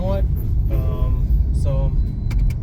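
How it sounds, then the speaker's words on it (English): A commuter bus moving through town traffic in Kampala's Ntinda area, heard as a steady low engine rumble beneath someone talking close by. "That bus Tondeka is a commuter bus."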